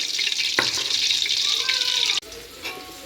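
Chopped onions drop into hot oil already seasoned with bay leaves for a Hyderabad-style prawn biryani, setting off a sudden burst of loud, hissing sizzle that continues close by before a sharp break.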